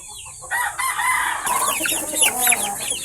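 Bulik roosters and chickens in a small backyard coop, loud close clucking followed by crowing calls over a rustling farmyard background.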